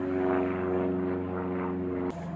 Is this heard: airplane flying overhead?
yes